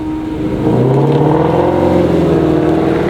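A Shelby GT350R sports car engine revs loudly and climbs in pitch at Willow Springs Raceway, roaring close by and holding a strong, sustained growl.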